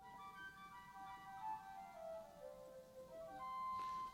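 An Austin pipe organ's flute stop in a cathedral plays a clear, sustained whistle-like melody of held and gliding notes, moderately loud with a steady breathy tone and no voices.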